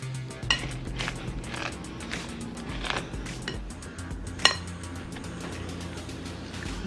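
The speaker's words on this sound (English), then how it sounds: "I'm going to use a pastry cutter to cut this all together" A metal pastry cutter works softened butter, almonds, cinnamon and salt together in a bowl, giving soft repeated clinks and scraping taps at an uneven rhythm with a low background hum.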